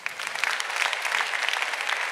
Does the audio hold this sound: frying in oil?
no